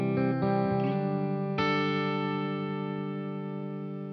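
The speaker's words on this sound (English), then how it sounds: "Then I have a Vox amp profile and it sounds like this." An electric guitar played through a Vox amp profile rings out with a few quick picked notes and then a sustained chord that decays slowly, clean and close with no talking.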